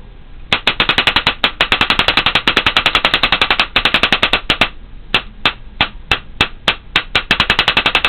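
A Spyder VS1 paintball marker fires rapidly in semi-auto, loud sharp pops in quick irregular bursts close by, with brief pauses between strings of shots.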